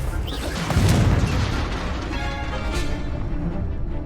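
A Confringo fire spell bursts in the Hogwarts Legacy video game, a loud booming blast rolling into a rumbling crackle that fades into steady background noise.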